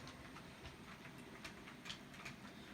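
A small DCC-controlled Hornby model train runs along its track, very faint, with light rhythmic clicking and a soft mechanical whir.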